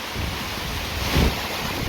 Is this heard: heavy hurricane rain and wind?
yes